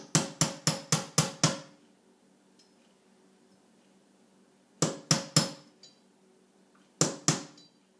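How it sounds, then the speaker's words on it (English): A small tool taps nails to countersink them into a wooden windowsill: a quick run of six sharp, close taps, a pause, a burst of three to four more, then two final taps. "I'll go ahead and countersink them with this little tool here."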